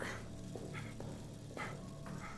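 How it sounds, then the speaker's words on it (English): A creature in the horror game Amnesia: The Bunker makes short rough growls like the start of a puppy bark, repeating three or four times under a steady droning ambience. "There's a noise he's making there that like, rah, that sounds like the beginning of a puppy bark"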